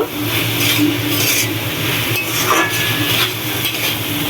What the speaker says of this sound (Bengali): আর এইভাবে আমি বেশ কিছুক্ষণ নেড়ে চেড়ে নেব